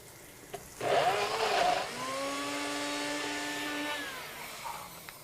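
A blender whirs loudly for about a second, then settles into a steady high-pitched motor hum that runs for several seconds before winding down.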